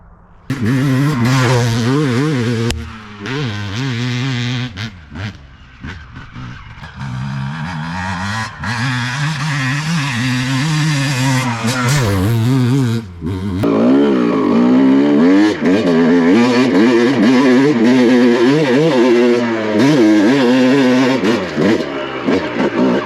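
A Honda CR250 two-stroke motocross dirt bike ridden on a track, engine loud and near, revving up and down with crackling pitch swings, easing off briefly then roaring back to sustained high revs.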